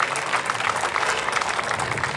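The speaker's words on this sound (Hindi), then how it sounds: "आपकी तालियों में वाकई जोश है, एक बार और तेज से बजा दीजिए।" Audience applause at the closing ceremony of a science festival attended by ministers, a steady, dense clapping of a large crowd filling the hall throughout.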